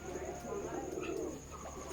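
Pigeons at a pigeon farm give soft, low rolling coos, close by and fairly quiet, over a faint steady background hum.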